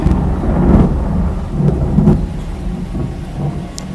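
A thunderstorm with falling rain rumbles at an arena dinosaur show in Bercy, a loud, deep, rolling thunder over a steady wash of rain, with a few faint cracks.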